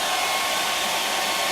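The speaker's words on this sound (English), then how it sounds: "We can speed it up with a bit of a hairdryer." A hairdryer blows with a steady, loud whooshing roar close by, unchanging for the whole short stretch.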